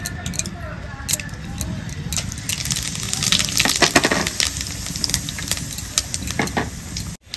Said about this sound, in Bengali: ফোড়নে দিয়ে দেবো গোটা গরম মশলা, একটা শুকনো লঙ্কা, গোটা জিরে